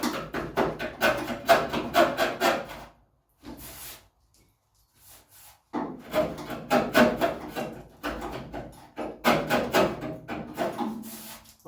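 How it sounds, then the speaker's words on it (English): A scraper tool dragged against a rusty door from a classic Mini pickup, working under the paint in repeated rough, close scraping strokes in two bursts separated by a short quiet pause. "with this scraper tool to try and get under the paint"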